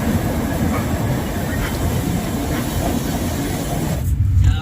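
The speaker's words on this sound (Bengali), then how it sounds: "খড়গপুরে 8টা প্ল্যাটফর্ম ছেড়ে যাচ্ছে ট্রেন আমাদের।" Puri–Howrah Superfast Express pulling out of Kharagpur junction, a loud continuous rolling rumble of wheels and carriage noise from inside the train, dropping briefly near the end before resuming.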